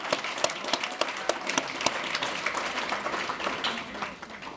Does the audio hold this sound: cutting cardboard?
no